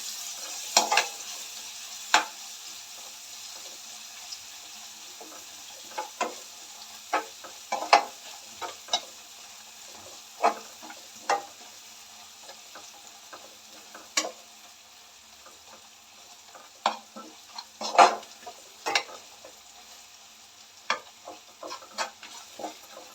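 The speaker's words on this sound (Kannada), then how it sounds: "ಈ ಥರ ಚೆನ್ನಾಗಿ ಮಿಕ್ಸ್ ಮಾಡ್ಕೋಬೇಕು ಇದು ಪೌಡ್ರನ್ನ ಆಯಿಲಲ್ಲಿ" Iyengar puliyogare powder is stirred into hot oil in a pan. Scattered light scraping taps and clicks of the spoon play over a faint sizzle, irregular and close.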